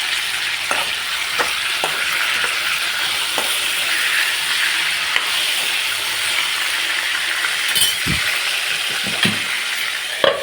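Potatoes frying in oil under a lid give a dense, steady hiss that runs unbroken, with occasional small pops and knocks.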